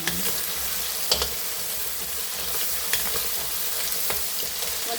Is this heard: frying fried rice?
yes